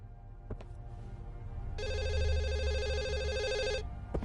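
A telephone rings in the video game The Assembly, a single electronic trill lasting about two seconds over a low background hum, with soft clicks before and after.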